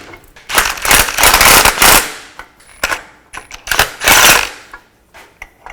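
Ratchet or impact tool tightening exhaust pipe nuts and studs on a 2005-2010 Chevrolet Cobalt, in loud, close, rapid rattling bursts separated by short pauses.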